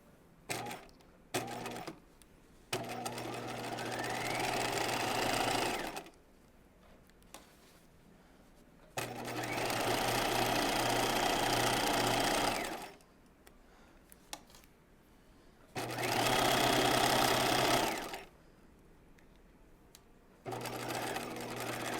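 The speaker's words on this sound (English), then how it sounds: "we're going to stitch this at 5/8 of an inch, starting at the notch" A sewing machine stitches a 5/8-inch seam on a raglan top, running in three sustained bursts of steady mechanical whirring, separated by quiet pauses and a few small clicks.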